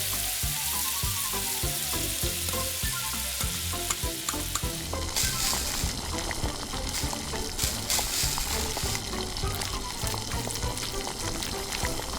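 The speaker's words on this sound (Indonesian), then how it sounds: "Aduk selama 2 menit." Food is stirred in a frying pan during the making of mini grilled eel sushi in a tiny kitchen, with continuous loud sizzling and frying hiss plus light scraping of the stirring utensil close by, no voices.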